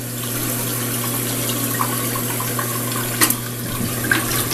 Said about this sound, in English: It's just going to fill up now,